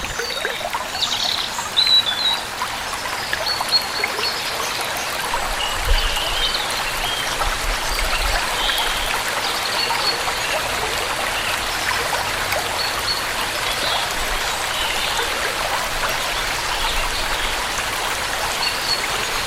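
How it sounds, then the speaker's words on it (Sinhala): A stream flows down from the Kandewatta hills toward an old walauwa in Rambukkana, Sri Lanka, giving a steady broadband wash and trickle of water with no one talking and faint birdsong above it. "එතනට වතුර ගලාගෙන ඉන්නේ එයාලගේ කන්දේවත්ත කියන ලස්සන කඳුයායෙන්"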